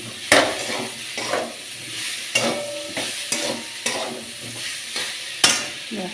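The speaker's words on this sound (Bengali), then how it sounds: "মশলাটা কষিয়ে নেব ভালো করে" A spice paste of grated ginger, cumin powder and a little sugar sautéed in a pan for an aloo potol curry, soft sizzling frying broken by repeated scraping strokes of a spatula against the pan.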